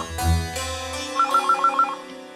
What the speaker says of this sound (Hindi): बघ, वर्षाचा फोन असेल